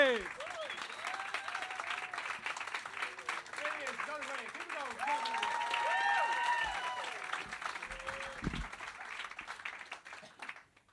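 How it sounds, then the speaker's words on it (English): Comedy club audience applauding and cheering for a comedian taking the stage, steady dense clapping with whoops and shouts from a lively crowd, swelling in the middle and then fading out at the end. "Keep that applause going."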